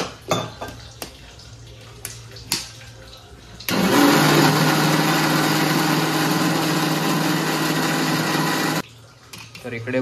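After a few sharp kitchen clinks, a mixer grinder roars into a loud, even whir while blending uttapam batter thinned with extra water. It runs for about five seconds, then stops abruptly.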